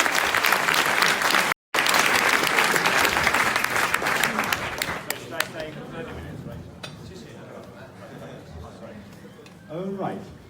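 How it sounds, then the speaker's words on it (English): Audience applause greets a speaker at a machine learning tech talk evening, a dense, loud burst of clapping that fades over several seconds into scattered claps and low murmur. "A big applause. Big applause!"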